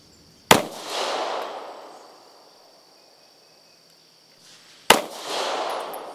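Two sharp pistol shots from a Beretta APX A-1 and Taurus GX4 at an outdoor range, about four seconds apart, each a loud crack trailing into a long rolling echo, with no talking.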